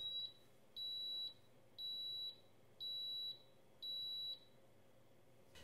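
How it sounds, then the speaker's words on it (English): Electronic beeping from a Cuisinart vertical Belgian waffle maker signalling a finished waffle, five steady high-pitched tones repeating evenly about once a second, clear and alone against a quiet background hum. "it will actually beep 3 times to let us know that the waffle is ready to remove"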